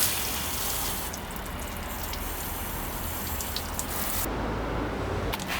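Water from a hose or tap splashes steadily over a chrome BMW badge, rinsing off car shampoo in a continuous hissing spray with small intermittent splatters and a brief change in flow near the end.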